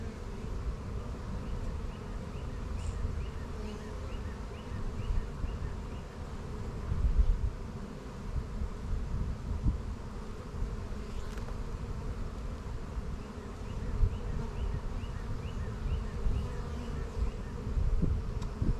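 Honey bees buzzing on a hive frame during a split, a steady low hum of many bees close by with faint outdoor background and no talk.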